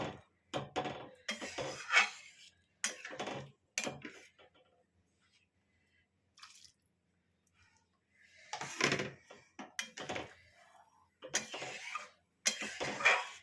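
A ladle stirs dal in a metal pot for a summer mango dal, clattering and scraping in short bursts separated by quiet pauses, close and moderately loud.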